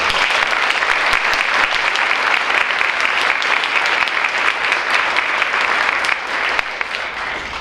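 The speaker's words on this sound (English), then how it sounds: "So a round of applause." A crowd at a Veterans Day ceremony claps loudly and steadily, a thick unbroken wash of applause that holds for several seconds before easing slightly near the end.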